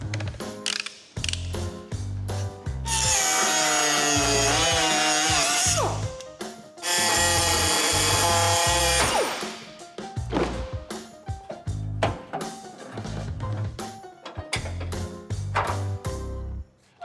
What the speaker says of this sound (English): So I'm gonna go ahead and cut one of the springs here